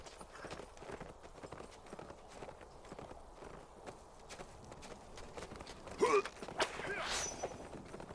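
Horse hooves clip-clop in Lord of the Rings Online as riders flee on horseback, a faint rhythmic patter of steps under quiet game ambience, with brief louder sounds near the end.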